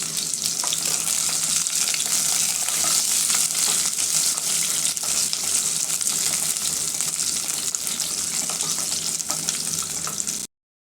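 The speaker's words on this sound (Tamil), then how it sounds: "ரெண்டு பச்சை மிளகாய் ஒரு வரமிளகாய் இதெல்லாம் போட்டு வணக்கிக்கிறேன்" Green chilies, a dried red chili, shallots and curry leaves saute in hot oil, a loud, dense, continuous sizzle close up that carries on without pause.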